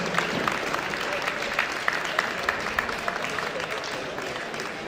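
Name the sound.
audience applause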